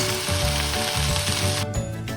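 Small fish frying in a pan make a continuous close sizzle with crackling spatters, interrupted by brief low thumps near the end.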